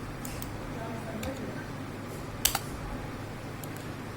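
Scattered keys clacked on a computer keyboard, a few isolated taps with one sharper double click in the middle, over faint room noise.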